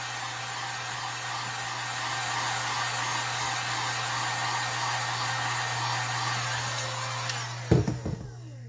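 A heat gun warms a tumbler cup, giving a steady close whirring blast with a low hum for several seconds before it cuts off with a few clunks and handling noises at the end.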